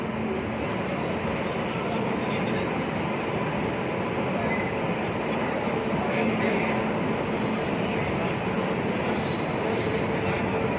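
Bandra Paschim Express train running between Jalandhar Cantt and Ambala Cantt, heard as a steady, loud rumble of wheels and carriage noise that never lets up.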